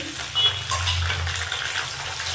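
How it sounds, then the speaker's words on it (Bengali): Chopped tomatoes sizzle in a pan with lightly browned fried onions while a jackfruit curry is cooked, giving a steady, moderate hiss and crackle with no talking. "টমেটো কুচি দিয়েও আমি আবার একটু কষে নেব টমেটোটা"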